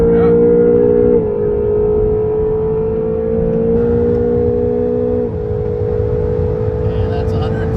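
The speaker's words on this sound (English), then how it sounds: "Super handling all-wheel drive, 4-wheel launch coming off this corner." 2020 Acura NSX accelerating hard out of a corner at Road America, engine note rising through gear changes, loud and close from inside the cockpit, with people talking over it.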